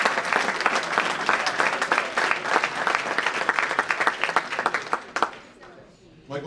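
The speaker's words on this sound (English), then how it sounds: "if we could give a round of applause" An audience at a high school sports hall of fame induction ceremony gives a round of applause: dense, close clapping that tapers off near the end.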